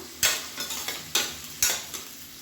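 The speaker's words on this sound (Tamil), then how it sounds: "இந்த வெங்காயம் நல்லா வதங்கட்டும்" Onions sautéing in hot oil for chicken biryani, a steady close sizzle broken by four sharp scraping stirs of a spoon against the pan, with no talking.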